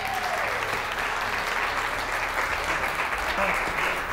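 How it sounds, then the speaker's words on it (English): An audience at a motivational leadership talk claps steadily, a dense, even wash of applause that holds for the whole stretch. "Are you guys clapping good or are you clapping great?"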